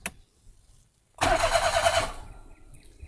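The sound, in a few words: Daihatsu Move L9 RS turbo engine starting with push start button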